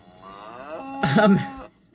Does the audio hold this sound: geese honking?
no